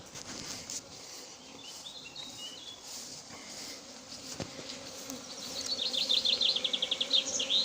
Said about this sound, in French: Je vais taper le carton pour mettre les abeilles dedans.